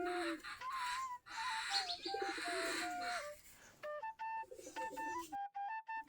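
Local breed pigeons coo and chirp near their coop while eating paddy grain in the afternoon, with repeated soft calls at close range and brief pauses between them.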